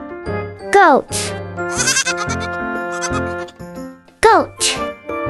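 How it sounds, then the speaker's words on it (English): A goat bleats in several short, wavering bursts with pauses between calls, loud and close, a quick repeated pattern of nasal cries. "Goat."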